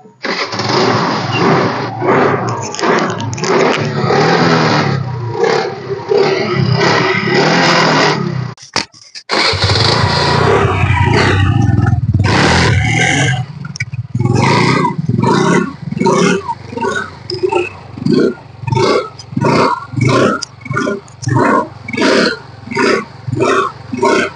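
A 2018 BS4 scooter engine is started and revved close up. It gives a loud, buzzing idle, a brief cut-off, then a restart and a series of rhythmic throttle blips that rise and fall.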